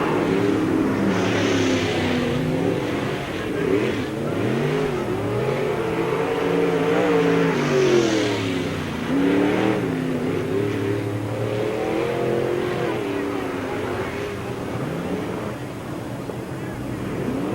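Race cars at Spoon River Speedway during the 1997 Summer Nationals roar continuously, engines rising and falling as they accelerate around the dirt oval, loud and sustained with a track announcer's voice over the noise.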